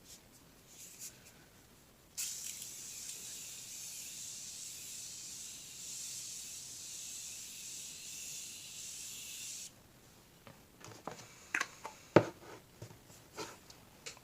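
A faint, continuous hiss of Morphe Continuous Mist aerosol setting spray misting for several seconds, preceded and followed by soft rustling and light handling noises.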